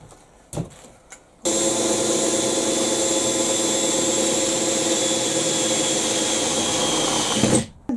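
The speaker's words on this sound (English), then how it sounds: "Now I'm going to do three holes just because I like wrecking my hands with a rivet." A hand riveting tool setting rivets: a couple of short clicks, then a loud, steady mechanical whirring that runs close by for about six seconds before stopping, no talk.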